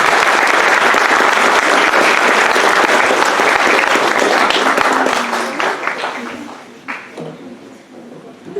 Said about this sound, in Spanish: Recibámoslo por favor con un fuerte aplauso.